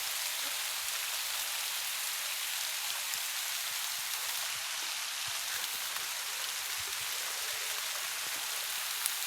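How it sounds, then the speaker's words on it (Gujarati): Steady rain falls continuously in a dense, even hiss with a few closer drips, and no one speaks. "હવે પૂરો કરી દેવો કારણ કે વરસાદ વધારે મીડ્યો છે આવવા"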